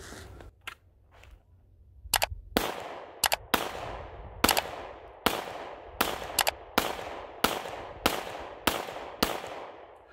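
Gunshots fired at an outdoor shooting range while testing Wiley X Rogue safety glasses: a few faint early pops, then a steady series of about a dozen loud, sharp reports roughly every half second to second, each trailing into a brief echo.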